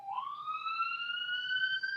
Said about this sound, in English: Somebody's got an ambulance going by or something.